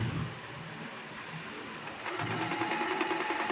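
Usha Janome sewing machine running a straight stitch, a steady mechanical whirring hum that starts quietly, then grows louder and faster at about two seconds and keeps going without pause.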